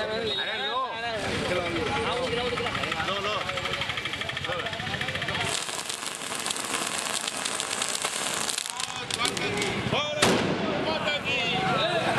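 Rapid crackling bursts and pops of celebratory fireworks set off by a crowd in India fill the air continuously, loud and dense, with the crowd's voices mixed underneath.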